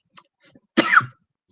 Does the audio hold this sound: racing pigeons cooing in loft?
no